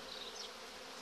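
Honeybees buzz at a hive, a brief steady hum that stays close and even throughout.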